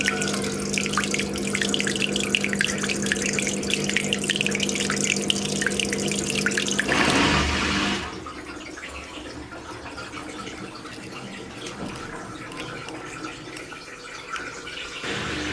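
Drain pump of a Sharp ES-FW810W front-loading washing machine, after replacement, pushing out water: a steady rushing, gurgling flow that drops to a quieter, thinner trickle about halfway through. No voices.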